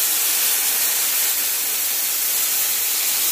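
Water hisses and steams loudly as it is poured into a hot roux in a home kitchen while making chicken taco soup, a steady broadband rush lasting throughout with no talking.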